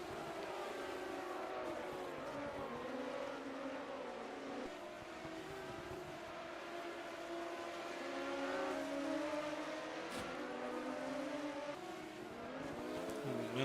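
Race cars lap the Monaco Grand Prix circuit during a 1980 Procar race, their engines droning and revving continuously through shifting pitches at a steady distance over the whole stretch.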